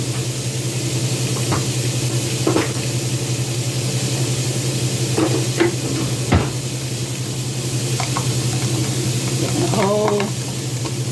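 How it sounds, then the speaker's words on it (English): Chopped ingredients sizzling in a pan for chicken and egg noodle soup, a continuous close frying hiss with occasional spoon clinks and stirring scrapes, a low hum underneath. "I'm just going to open this up and dump the whole container into my pan."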